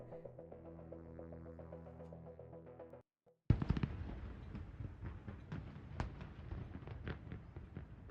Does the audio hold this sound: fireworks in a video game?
yes